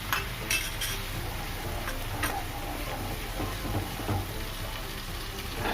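Chicken lollipop gravy sizzles in a pan while a spoon stirs it, giving a steady frying hiss with light, irregular scraping clicks close by.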